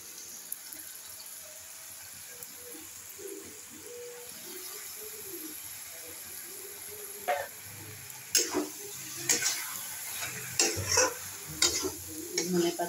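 A dry vegetable dish with fresh coriander leaves is stirred in a pan. A soft, steady sizzle gives way to sharper spoon scrapes and clatters near the end, with no talk.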